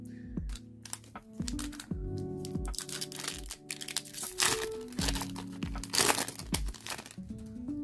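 A Pokémon Lost Origin booster pack wrapper crinkles and crunches up close in a string of sharp, irregular rustles and tears, fairly quiet, with no voices.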